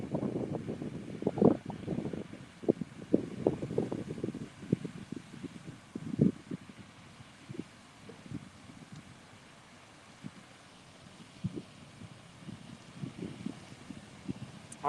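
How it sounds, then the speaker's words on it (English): Outdoor wind in Portland buffets the microphone in irregular low gusts, strongest early on and easing to a softer, uneven rumble later. "We got a nice little wind gust right now."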